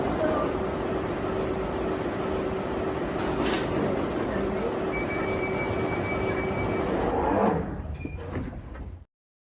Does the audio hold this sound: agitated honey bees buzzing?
no